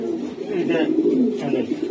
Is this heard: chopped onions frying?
no